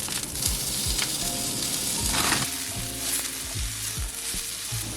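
Frozen spinach hits a hot pan and sizzles, a steady frying hiss broken by soft scraping stir strokes and a brief louder burst as it settles.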